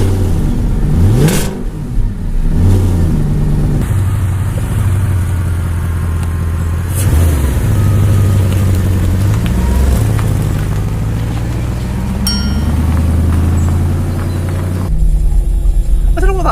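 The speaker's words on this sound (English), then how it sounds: "Oh, this car sounds beautiful." An Audi A8 engine idles and revs, a low steady rumble with several throttle swells and a faint buzzing noise, loud and close, with someone talking over it at points.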